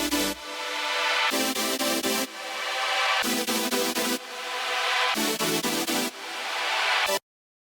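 Future bass supersaw chords built in Serum without a square layer: bright, wide sustained stabs in a choppy rhythm, with bursts of short repeated hits between longer swelling chords, loud and alone.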